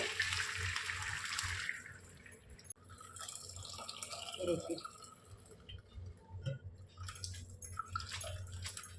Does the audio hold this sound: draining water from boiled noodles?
yes